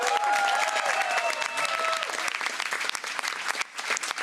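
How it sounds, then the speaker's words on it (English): A crowd applauds by-election candidates on election night, clapping loud at first and thinning into scattered claps, with a tonal cheer or whistle line threading through the opening seconds. "Let's give a big round of applause for all the candidates."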